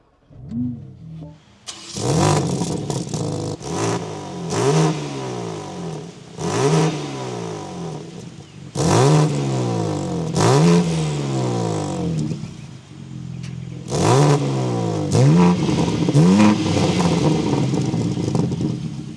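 A 2024 BMW M3 CS engine fires up, then revs repeatedly in sharp bursts, each roar rising and falling, loud and close with brief idle gaps between.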